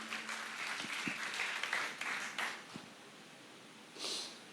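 A church congregation claps for a speaker during a sermon, a fairly quiet wash of applause that thins out midway, then a brief rustle or breathy sound near the end.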